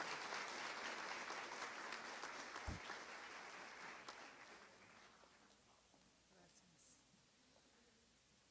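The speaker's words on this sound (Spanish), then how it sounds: "le brindamos un fuerte aplauso" Audience applause after a speaker is introduced at a conference in a union section hall, a dense crowd clapping that is loud at first, then gradually thins and fades over several seconds with a brief thump partway through.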